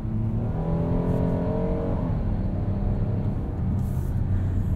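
A 2021 Kia Telluride SX AWD Nightfall Edition engine revs while driving, a loud steady drone whose pitch climbs and then drops as a gear changes midway, with road and wind noise underneath.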